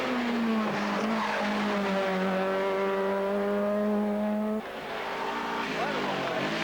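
A Peugeot 306 Maxi rally car engine at racing revs on a Canary Islands rally stage, a high steady wail that holds then drops sharply as the driver shifts, with a commentator talking over it.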